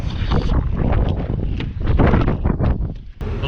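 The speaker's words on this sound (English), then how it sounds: "I didn't know it was so windy y'all couldn't hear me" Strong wind gusting across the beach causeway to Santa Rosa Island near Navarre Beach, Florida, roaring loudly and unevenly straight into the microphone with no one talking.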